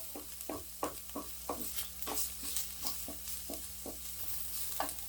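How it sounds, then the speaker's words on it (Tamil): Sliced large onions sauté in a pan for Chettinad chicken gravy, a soft continuous sizzle under a regular run of spoon scrapes and taps, close but fairly quiet, with a low steady hum beneath and no talking. "ஸோ இது நல்லா கொஞ்சம் லேசாக வதங்கட்டும்."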